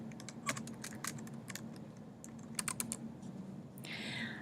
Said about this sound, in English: I can type in what I would like to type in.